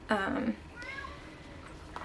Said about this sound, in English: meowing to come in the room